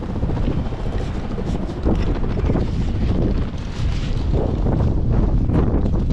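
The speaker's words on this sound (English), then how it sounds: "Ooh, windy." Strong wind in rural Iwami Ginzan, Japan, buffets the microphone in loud, rumbling gusts that rise and fall continuously, with no talking.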